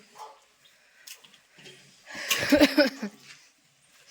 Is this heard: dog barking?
yes